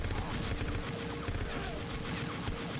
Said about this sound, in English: I'm just shooting wildly like a maniac.